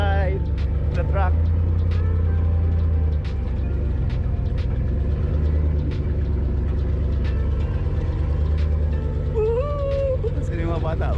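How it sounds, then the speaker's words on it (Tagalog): A truck engine rumbles steadily during a ride, a heavy low drone with road vibration filling the whole stretch, while people chat and call out over it. "Yay, we're having a ride. The truck."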